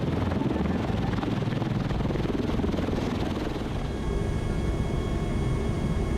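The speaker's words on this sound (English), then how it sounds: "The aircraft consists of two large three-bladed rotors that rotate in opposite directions to produce" A V-22 Osprey tiltrotor with two large three-bladed counter-rotating rotors, a loud continuous thudding whir and engine roar that stays dense throughout, easing slightly partway before returning.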